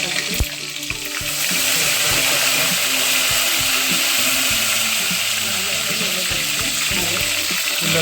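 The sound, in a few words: cumin, mustard seeds and asafoetida sizzling in hot oil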